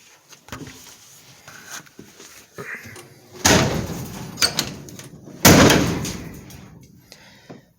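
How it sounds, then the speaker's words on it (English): A car door is pushed shut twice, each time a heavy thud with a short rattle, standing out against quiet handling noises in between. "This is the hardest door to close."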